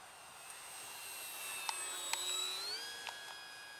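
Electric E-Flite P-51D Mustang RC model plane with a four-bladed prop flying overhead, a thin steady whine with rising and falling motor pitch over soft outdoor background, fairly faint and distant.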